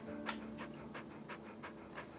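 A dog, a female that is not a service dog, pants steadily indoors with quick rhythmic breaths at close range over a low hum.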